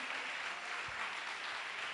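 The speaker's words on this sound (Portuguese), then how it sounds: "Então vamos aplaudir o Senhor Jesus, receber nosso reverendo." A congregation in church applauds to welcome the reverend, a continuous, even wash of many clapping hands, faint and distant, blending into a steady hiss without distinct individual claps.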